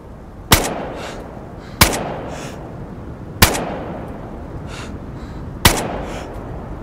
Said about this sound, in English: Shooting practice for Red